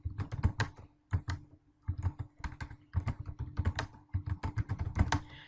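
Rapid bursts of keystrokes on a computer keyboard while PHP code is typed, close and crisp, in uneven clusters with brief pauses between runs; no talking.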